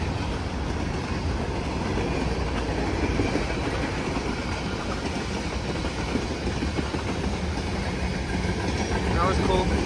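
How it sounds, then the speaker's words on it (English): Green Wheeling and Lake Erie Railroad freight boxcars roll past in a loud, steady rumble with faint clickety-clack for the whole stretch, while people talk over the noise. "Those green box cars. Wheeling and Lake Erie Railroad Company."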